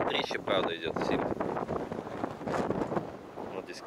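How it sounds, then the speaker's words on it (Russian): Strong wind buffets the microphone in loud, uneven gusts on the boat deck of a Volga river cruise ship, with a voice talking through it. "Сейчас ветрище, правда, идет сильно."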